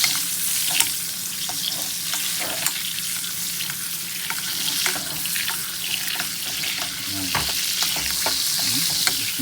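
Cajun-seasoned chicken breast sizzles steadily in a hot pan, with occasional scraping from being stirred, a continuous close frying hiss and no talk.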